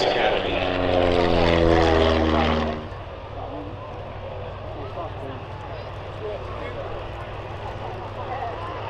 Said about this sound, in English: he Shuttleworth chief pilot Paul Shakespeare landing on with the Chipmunk.